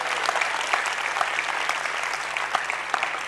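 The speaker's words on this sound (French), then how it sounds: "Un applaudissement pour vous-même" A festival audience breaks into steady, dense clapping that holds at an even level for a few seconds. Scattered sharper claps stand out within it.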